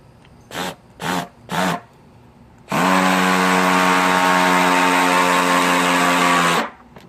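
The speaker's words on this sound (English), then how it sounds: "Let's see how that hammer is in the first speed." Stanley 20V SCH201C2K hammer drill in hammer mode at first speed: three short bursts, then a steady, loud sustained run of about four seconds, close and with no talking.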